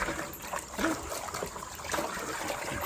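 Water trickles and splashes steadily in a tub as salted deer hide is rinsed at home, a constant close wash of liquid noise with no talk.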